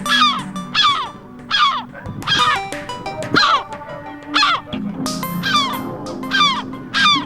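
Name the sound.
gulls calling angrily as eggs are destroyed in nests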